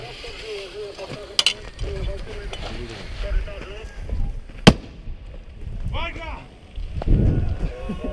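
Sharp cracking bangs of fireworks pop intermittently amid people talking and shouting nearby, with one especially loud crack standing out.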